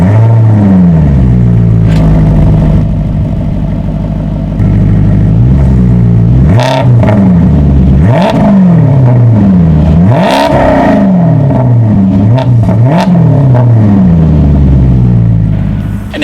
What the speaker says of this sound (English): So as always, here is that exhaust clip.